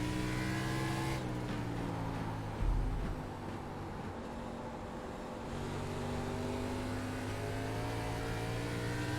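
Race car engines roar steadily in an ARCA Menards Series race at Five Flags in the iRacing sim, with a close engine droning at sustained revs and a brief dip as it lifts off and accelerates again.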